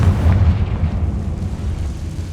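A Confringo fire-blast spell explodes in Hogwarts Legacy: a loud, deep, rumbling blast that swells and then rolls away over a couple of seconds.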